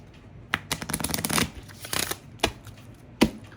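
Tarot cards being shuffled by hand, close and clear, in several bursts of riffling and slapping with short pauses between, no talking.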